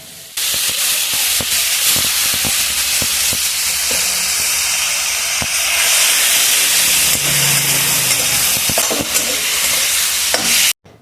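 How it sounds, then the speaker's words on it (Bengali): Chopped tomato and onion fry in a hot pan with black cumin, giving a loud, steady sizzle and hiss throughout, with the clatter of stirring repeating over it. No one talks. "এই যে টমেটো আর পেঁয়াজ কুচিটা দিয়ে কিন্তু নাড়াচাড়া করে নেবো"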